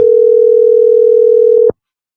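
Telephone dial tone on a phone line, a loud steady single pitched hum lasting under two seconds before cutting off abruptly into silence.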